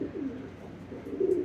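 A domestic pigeon nesting up high gives soft, low repeated coos close by, rising slightly louder near the end, with no voices.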